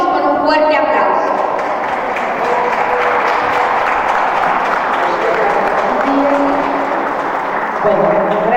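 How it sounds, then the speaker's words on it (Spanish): Loud, sustained audience applause welcoming a speaker to the stage: a dense, steady wash of many hands clapping together, with voices rising at the start and again near the end. "La recibimos con un fuerte aplauso."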